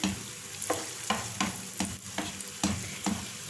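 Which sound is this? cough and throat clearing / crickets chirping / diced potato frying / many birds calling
diced potato frying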